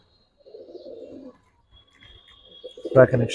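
A Giribaz pigeon gives a short, soft coo, followed by a louder burst of cooing near the end in a quiet indoor space, with faint talk nearby.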